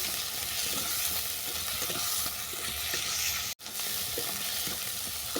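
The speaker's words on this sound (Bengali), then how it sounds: "তুলে দিলাম কাঁকড়া। এটাকেও আমি আরও 2 মিনিট কষিয়ে নেব।" Crab frying and being stirred in a spiced masala for kankrar tel jhal, a dense continuous sizzle with scraping stirs, one abrupt momentary dropout midway, no voices.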